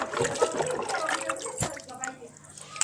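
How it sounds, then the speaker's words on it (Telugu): Water trickles and splashes steadily onto plants up close while a person talks over it. "ఇప్పుడు మనం ఈ పైన చెట్లకి వెళ్ళి నీళ్ళు పోయాలి"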